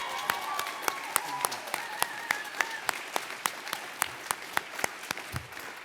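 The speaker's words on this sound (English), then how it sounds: "I wonder first if we could have a round of applause for our wonderful moderator today." Applause at a senior project presentation ceremony, heard as sparse, distinct claps from a few hands at an even, fairly quick rhythm rather than a full roar.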